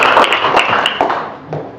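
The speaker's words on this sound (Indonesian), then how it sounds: "berikan aplaus dulu" A classroom audience applauds after a student group presentation, steady close clapping from many hands that fades slightly toward the end.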